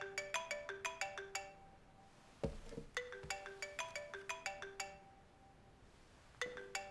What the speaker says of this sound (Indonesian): Direktur Lee, aku harus terima telepon ini